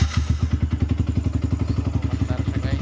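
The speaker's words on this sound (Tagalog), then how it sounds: "try natin kung aandar ba yung motor natin guys" A Yamaha R15 V2 motorcycle engine, started by a direct wire tap, runs close by with a fast, even, thumping idle that holds steady throughout.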